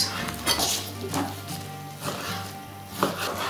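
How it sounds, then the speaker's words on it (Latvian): A knife chops pork into pieces on a cutting board for plov, with a series of distinct thuds at an uneven rhythm, close-up, and faint kitchen clatter in between. "Es griezu šāds te gabaliņus"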